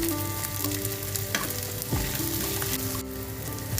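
Onions frying in hot oil in a pan for ginisang corned beef with cabbage, a steady close crackling sizzle with a few stirring scrapes and music faintly underneath.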